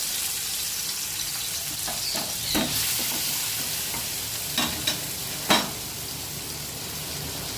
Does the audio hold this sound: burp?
no